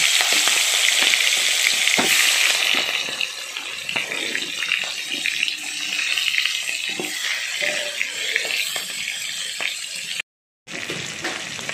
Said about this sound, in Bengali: এবারেই বড় চিংড়িগুলো আমি ভাজা করে নিচ্ছি।